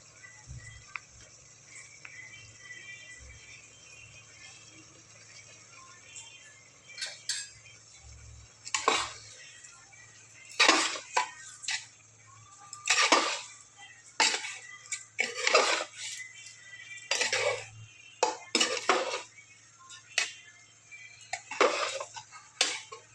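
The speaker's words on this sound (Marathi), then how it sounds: "असं 1-2 मिनटं चांगलं परतून घेते मस्त मी खिचडी आपली" Masala khichdi being sautéed in a pot with turmeric and salt, with sharp metallic scrapes and clinks of a spoon against the pot in irregular bursts over a low steady hum, close by.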